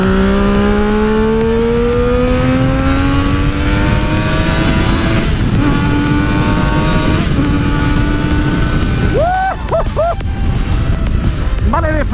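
A Daytona sport motorcycle pulls hard at high speed, its engine note climbing steadily in pitch over loud wind and road roar. Near the end it drops sharply as the rider shifts gear, then rises again.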